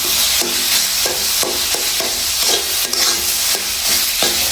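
Spices and ingredients for a potato and lentil vegetable dish are stir-fried in a pan, with a continuous sizzle broken by rhythmic scraping strokes of a spatula roughly every half second, close and fairly loud.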